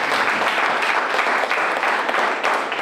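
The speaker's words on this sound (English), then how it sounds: "Round of applause for Mr. Expo." An audience breaks into steady, dense applause for a guest at an inspirational gathering, a continuous wash of many hands clapping throughout.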